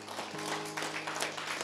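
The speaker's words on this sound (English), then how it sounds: "can we give one more clap offering to the Lord?" A church congregation claps together in praise after a prayer, a continuous, full-room wash of hands with a low steady hum underneath, even in loudness and heard alone.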